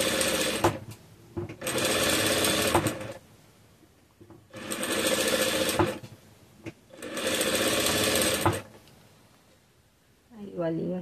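A sewing machine stitches closed a small fabric Easter bag, running in three long loud bursts separated by pauses, with a short snippet of talk near the end.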